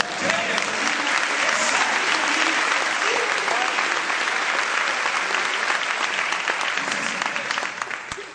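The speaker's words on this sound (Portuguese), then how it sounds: "Se você recebe, dê um aplauso aí." An audience at a church family seminar claps loudly and continuously for several seconds, and the dense applause fades slightly toward the end.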